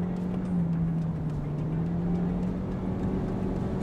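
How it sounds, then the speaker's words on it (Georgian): Steady engine hum from a new Toyota Prius running in sport mode, a continuous even drone with a low tonal whine that holds level close to the microphone throughout. "აი ეს ხმა უნდა ისმოდეს აქ. რა ხმები მოდის ძრავიდან."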